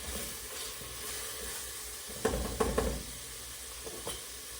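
A pumpkin, corn and shrimp bisque is stirred in a sizzling pot, with a steady frying hiss underneath and a cluster of scraping knocks from the spoon partway through, followed by one lighter knock.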